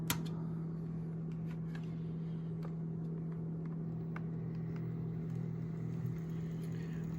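An HO scale model train runs along a layout to pick up two tank cars. Its motor gives a faint, steady electric hum that holds at an even level, with soft clicks scattered over it.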